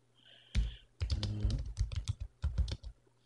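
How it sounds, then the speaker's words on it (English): Someone types on a computer keyboard while setting up an emulated Raspberry Pi, irregular bursts of close, crisp key clacks with short pauses between them, no talking. "Fix my abysmal typing"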